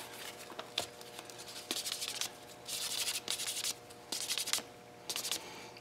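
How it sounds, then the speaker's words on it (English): A coin ring is rubbed on the white side of a buffing block, giving repeated close, dry scratchy strokes in several short bursts separated by brief pauses, no talking. "now the white side for the final buff"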